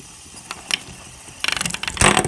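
A fidget spinner whirs and rattles, then clacks in quick repeated ticks as it strikes a row of LEGO minifigures standing on studs, ending in a louder burst of clattering.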